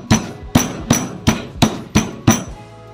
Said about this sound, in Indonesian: ini saya keprek serainya